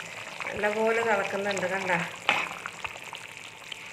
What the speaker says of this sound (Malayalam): കറി നല്ലപോലെ തിളക്കുന്നുണ്ട്.